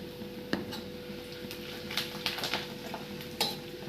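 Spices such as cumin and fenugreek powder being stirred into lemon pickle in mustard oil, with faint scraping and a few light clinks of a spoon against the vessel, quiet and close.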